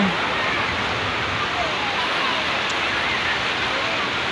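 Waves rush at Lhoknga beach in Aceh Besar as a continuous, loud, broadband wash of surf, steady with no distinct breaks, like a constant roar of water.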